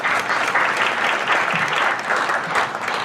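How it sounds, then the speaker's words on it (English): An audience at a talk on Native American roots of Texas Mexican food applauds planning advisors, producing a full, even wash of clapping that stays loud and steady for the whole stretch. "Yes, you can all applaud."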